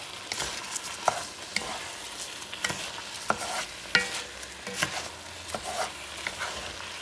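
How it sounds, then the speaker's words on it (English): Rice being stirred into Creole-style jambalaya in a pot, with close, irregular scraping strokes over a soft sizzle and no talk. "What I'm doing is I'm mixing that rice with the stuff"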